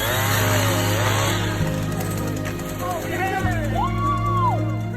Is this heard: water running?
no